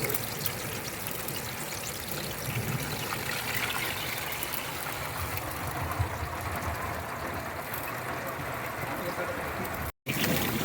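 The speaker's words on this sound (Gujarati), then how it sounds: "ધોધમાર વરસાદ ચાલુ થઈ ગયો છે, તમે જોઈ શકો છો" Heavy rain pours over a camper-van campsite in a continuous, dense, loud hiss that barely varies, with a brief dropout near the end and faint talk buried beneath.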